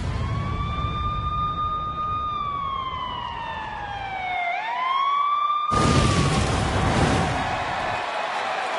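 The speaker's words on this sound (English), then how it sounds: "we are live as the ambulance is being backed into the arena" Ambulance siren wailing loudly and steadily as the vehicle backs into a wrestling arena, its pitch sweeping slowly down then up, joined by a burst of crowd noise in the last few seconds.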